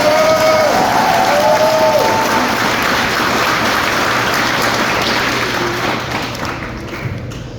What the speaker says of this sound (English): Can we get one more round of applause for our newly white-coated nurses?